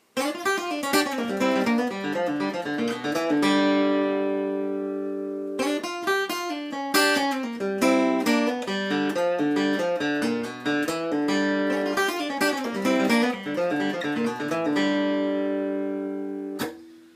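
A fast flatpicked blues lick from a G blues scale, using hybrid picking, rings out alone on guitar with quick plucked notes and bright snapped attacks, running in busy phrases with brief pauses between them.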